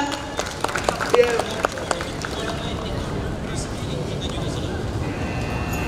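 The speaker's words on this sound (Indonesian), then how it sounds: "Boleh tepuk tangan yang meriah." An audience at a festival stage event applauds, with scattered claps rising briefly and then thinning into crowd murmur and babble.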